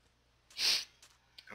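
A single wet sniffle from a player in a Minecraft session, close and fairly quiet, followed by a few faint breathy clicks.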